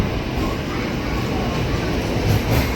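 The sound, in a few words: DEMU train leaving Kurnool City railway station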